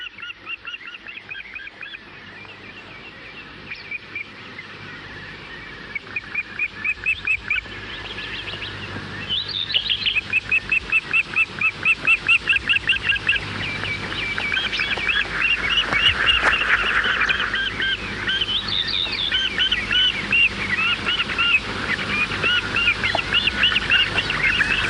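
Repeated honking calls from a large bird at a nest in the Caledonian forest of Scotland, loud harsh cries coming in bursts over a steady outdoor background.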